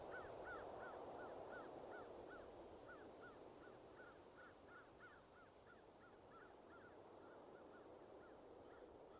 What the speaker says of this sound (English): there was only the wind outside and the cawing of a crow in the distance